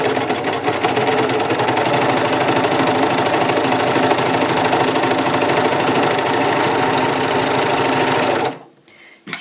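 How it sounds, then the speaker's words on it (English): A freshly cleaned and oiled overlocker (serger) runs scrap fabric through with a loud, steady mechanical buzz. It cuts off abruptly near the end, leaving a moment of quiet handling. "we're just going to run this fabric through the machine"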